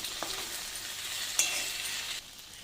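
Eggplant curry fries in a pan as a paste is added, making a soft, steady sizzle with a brief clatter midway, then quieter frying toward the end; no one speaks.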